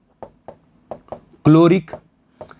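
Writing on a board in a chemistry lesson, heard as a series of close, crisp taps and short strokes. Someone speaks briefly partway through.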